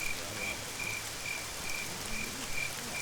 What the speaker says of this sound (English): The rain is starting to wear down.